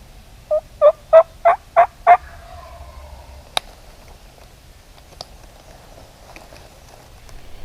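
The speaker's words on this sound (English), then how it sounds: "I'm listening to this one gobble over here" A wild turkey gobbler in the Alabama woods lets out six quick, loud gobbling bursts in a tight run near the start, then only faint wind and a few small clicks follow.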